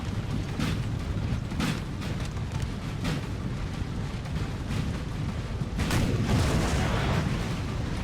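Artillery fire in the Napoleon: Total War video game: continuous low rumbling booms with several distinct cannon blasts rolling across a battlefield, one heavier burst near the end, with no talking.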